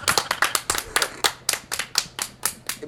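Audience at a Punjabi comedy show clapping in a loose, rhythmic pattern, about a dozen distinct sharp claps spaced roughly evenly, near and fairly loud with no talk over them.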